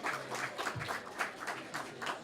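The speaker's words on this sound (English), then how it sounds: "Let's give him a big round of applause." Sparse, scattered clapping from a small audience welcomes a performer onto the stage at an art house ribbon cutting, soft and uneven pulses with a low murmur of voices underneath.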